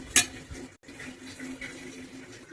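Water is poured into a pan of bottle gourd curry with one brief, quick splash near the start, followed by a faint, low simmering bubble. No one speaks.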